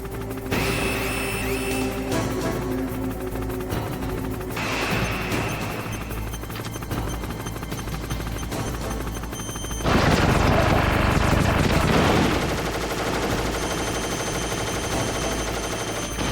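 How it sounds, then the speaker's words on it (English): A boss firing missiles in a video game: dense, continuous gunfire and explosive bursts under game music, with a louder, harsher blast swelling in the middle, no talking. "this is when he's going to fire the first missile"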